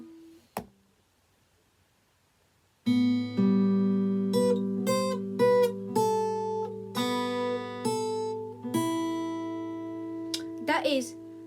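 After a brief click and a pause, clean guitar plays a song intro: open strings and fretted notes picked in a slow, steady arpeggio, each ringing out, with a short spoken word at the end.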